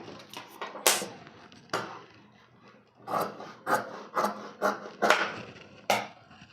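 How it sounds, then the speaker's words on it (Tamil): Scissors cut through blouse cloth in a run of short, raspy snips, about eight crisp strokes in quick succession, close and fairly quiet, with no talking. "இதை மார்க் பண்ணி நான் கட் பண்ணிக்கிறேன்"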